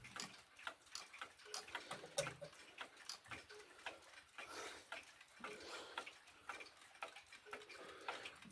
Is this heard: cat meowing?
no